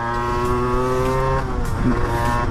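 An Aprilia RS4 motorbike fitted with an 80cc kit buzzes close by, its engine note steady then dipping and rising briefly in a short, loud burst.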